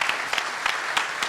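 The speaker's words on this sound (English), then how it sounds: "Give her a round of applause." Town hall crowd applauding for Kristen, a steady wash of clapping with a few louder bursts, close and continuous with no talk over it.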